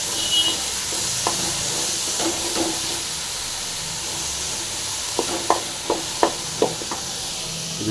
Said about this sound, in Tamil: இது போட்டு நல்லா க்ளீனாக வந்து ஃப்ரை பண்ணிங்க.